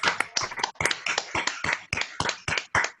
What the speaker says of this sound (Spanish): Un aplauso, pido un aplauso.